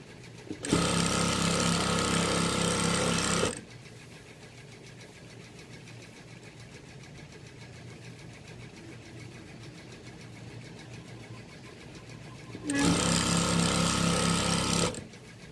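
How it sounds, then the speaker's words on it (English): Sewing machine stitching rows of a t-shirt quilt while its bobbin winds at the same time, two loud steady mechanical runs of about three seconds each, separated by a long quiet pause. "And then while you're sewing, the bobbin is winding."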